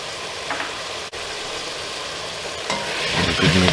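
Meat for shepherd's pie browns in a pan with garlic powder and herbes de Provence, a steady close sizzle broken by scraping stirs, growing slightly louder and busier toward the end.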